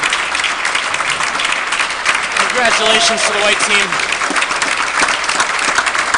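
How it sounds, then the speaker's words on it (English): Audience applauds the finalists at the 2015 St. Louis Open finals, a steady loud wash of clapping with a crowd murmur beneath, while an announcer speaks over it through a PA. "Huge, heavy round of applause for all players, all finalists."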